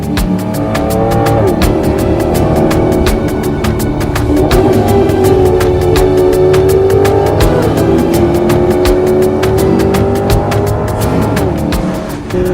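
A Maserati GranCabrio Sport engine revs hard and climbs steadily to 7000 rpm through long pulls, loud and close, with a metallic rasp and brief dips between gear changes.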